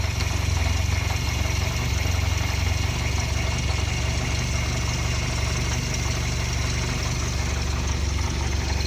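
Volkswagen car engine idling right after its first startup with G60 injectors and a Euro manifold, a loud, steady low rumble close to the engine with even vibration and no talk.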